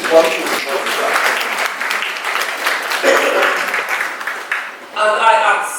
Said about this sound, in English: And I accept the applause